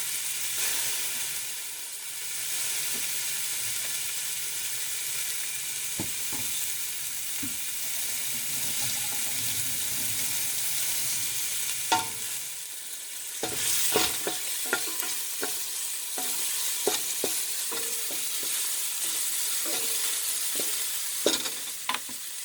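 Quarter of a chopped onion frying in hot oil in a cooking pot, a steady close sizzle and hiss with occasional stirring clinks and scrapes toward the end.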